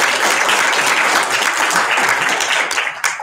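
Sustained applause from an audience at a student senate general meeting, greeting newly announced election winners; dense steady clapping fills the room throughout, tapering slightly near the end.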